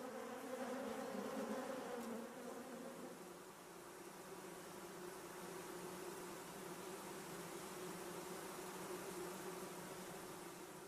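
A steady, dense hum of many honeybees buzzing together, continuous and even throughout, like standing near a busy hive.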